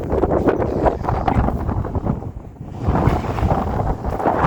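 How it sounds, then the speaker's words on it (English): Strong wind at an abandoned sugar mill in Guadalupe, California buffets the microphone in heavy, rumbling gusts, loud and continuous, with no voices. "you know how windy it is out here"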